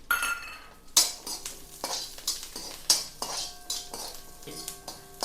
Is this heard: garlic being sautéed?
yes